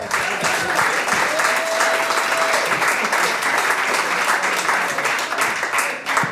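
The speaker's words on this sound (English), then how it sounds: "keep your applause going, ladies and gentlemen, for your next performer" Comedy club audience applauding a comedian coming to the stage, a loud, dense, continuous roar of clapping from a full room, sustained without a break.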